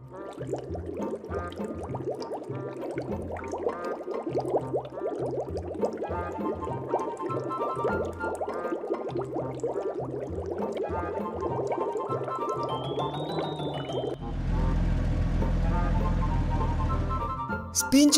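A raft drops into water in a children's cartoon: a sudden broad splash and wash bursts out near the end after a long stretch of background music, then settles into a sustained watery rush.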